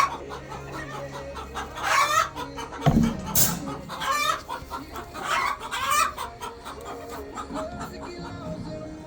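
Chickens on a small ranch cluck and squawk in repeated bursts, fairly close and loud, with a brief low thump partway through and no talking.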